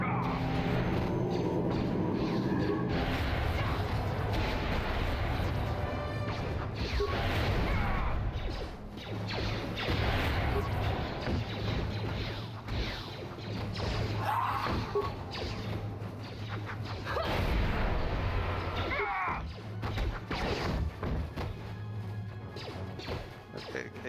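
Force explosion blasts in the Star Wars: Knights of the Old Republic video game, heavy crashing booms and smashing impacts layered densely with game combat noise, loud and continuous with no break.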